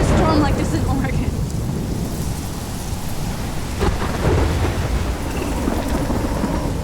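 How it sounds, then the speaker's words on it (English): A heavy thunderstorm from the Life is Strange video game: steady, dense rain pours throughout while thunder rumbles low underneath, with a louder crack of thunder partway through. "I've never seen a storm like this in Oregon."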